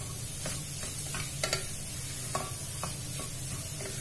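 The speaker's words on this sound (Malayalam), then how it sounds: "അതിനുശേഷം കൈ വെച്ചിട്ടൊന്ന് ഇളക്കി കൊടുക്കാം." Salted onions being stirred in a pan for beef pulao, gentle sizzling under repeated scraping strokes and light clicks of the spoon at an uneven pace, close by, with no speech.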